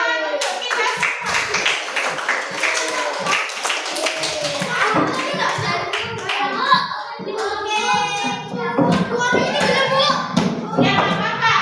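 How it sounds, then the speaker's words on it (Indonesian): Primary school children clapping in a classroom, an uneven, lively run of close hand claps and taps with chattering kids' voices mixed throughout. "Ayo, tepuk tangan untuk kita semua."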